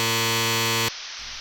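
A loud, harsh electric door buzzer drones steadily for almost a second, then cuts off abruptly into quiet room noise.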